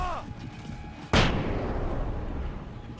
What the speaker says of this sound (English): throw the flashbang